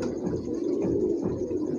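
Pigeons of a 40-year-old long-flight breed cooing at close range, a steady soft low warbling murmur that runs continuously without pause.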